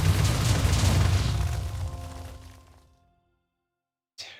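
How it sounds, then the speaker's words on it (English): A max-level explosion spell from the game Tensura: Advent of Magic erupts in one loud, sustained rumbling boom that slowly fades into silence, followed by a brief sharp sound at the very end. "Cast a max level explosion for the first time."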